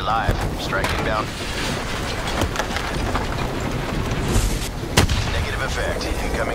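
Drone strike explosions in Call of Duty Black Ops 3, a dense run of booms and gunfire-like blasts with one sharp loud hit near the end, under a steady wash of battle noise and talk.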